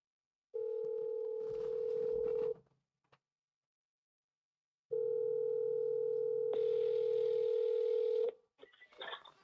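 Ringback tone of an outgoing telephone call: two long, steady electronic rings separated by a silent gap, then a short burst of line noise as the call connects.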